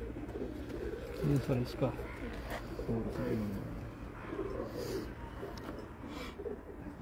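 Pigeons coo in short, low bursts near a person who talks over and between the calls.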